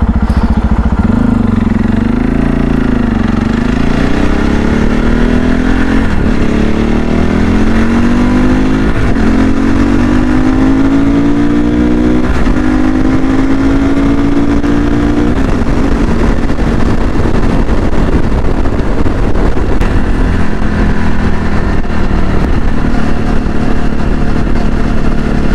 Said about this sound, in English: That's one of the luxuries about a counterbalanced engine.